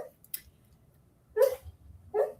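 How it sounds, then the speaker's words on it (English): A dog whimpering in its sleep while dreaming, heard as three short, muffled yips and whines spaced apart over a quiet background, somewhat close. "my dog is dreaming in the background"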